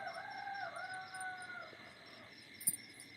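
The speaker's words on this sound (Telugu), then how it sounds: "కోళ్ళు ఊస్తున్నాయి కుక్కరక్కు" Roosters crowing in long, drawn-out calls, one after another at a moderate distance, with faint chirping birds in the background.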